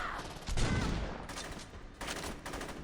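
Saints Row 2 gunfire bursts out in a short, dense fusillade, with a couple of loud volleys set against the game's background noise.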